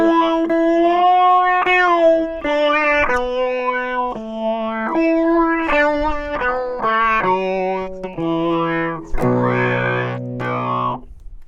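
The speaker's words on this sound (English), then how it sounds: "turn the talk box on. I'm just going to do some single note lines here." Electric guitar plays single-note lines through an MXR Talk Box pedal, each note shaped into vowel-like, voice-mouthed tones; loud, close and melodic, ending on a gritty chord.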